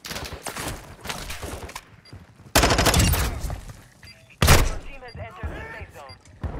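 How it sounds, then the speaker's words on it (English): Gunfire in Warzone 2, with loud broadband bursts of shots hitting twice amid a steady busy battle background, and a voice talking throughout. "Stop shooting at me"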